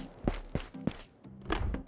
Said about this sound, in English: Heard something. Was that a footstep?